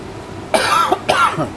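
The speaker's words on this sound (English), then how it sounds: "Sorry, I'm still coughing." Two harsh, close coughs in quick succession, each a raspy burst, in an otherwise quiet room.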